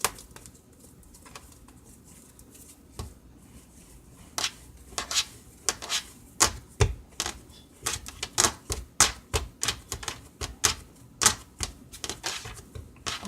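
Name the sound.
kneading Ghanaian sugar bread dough by hand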